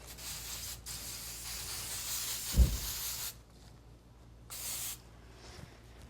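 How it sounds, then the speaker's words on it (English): Hairspray hisses steadily from a can onto cheerleading competition hair, a long close spray, a brief thump, then a second shorter burst of hissing. "put some extra spray"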